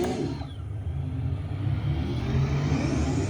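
A racing simulator's car engine revs up as driving begins, a mid-pitched motor rising in a steady climb with a low rumble underneath, fairly close and with no talking.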